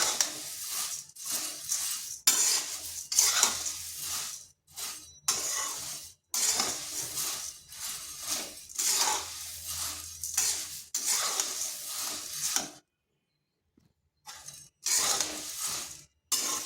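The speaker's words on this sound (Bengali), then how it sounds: "মুড়িগুলোকে এইভাবে 5 থেকে 7 মিনিট নেড়ে নিয়েছি।" Softened puffed rice (muri) stirred in a pan with a utensil, a series of dry scraping, rustling strokes in uneven bursts separated by short pauses, close and fairly quiet, with one longer silence near the end.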